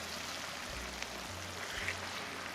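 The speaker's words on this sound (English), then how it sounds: "After about 45 seconds, you want to add your chicken broth." Warm chicken broth made from bouillon pours into a hot pan with chicken, giving a quiet, steady watery rush that runs for a couple of seconds with no talking.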